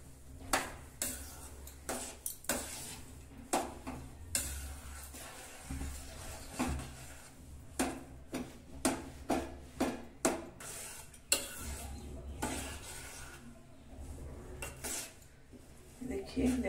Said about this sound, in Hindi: सारी चीजों को अच्छी तरह से मिक्स करना है।